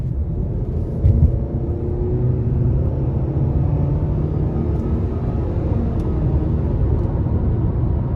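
A 2024 Nissan Sentra SV Premium accelerating onto an interstate at about a third throttle, heard from inside as a steady low engine and road rumble with a faint rising drone, no talk.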